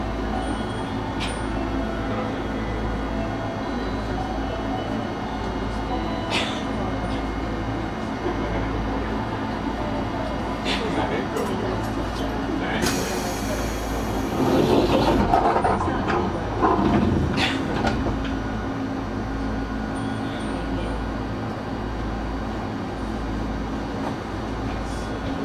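A local train on the Eizan Railway Kurama Line runs from Demachiyanagi toward Kurama, a steady rumble of motors and wheels with periodic track clicks and a brief louder rush midway.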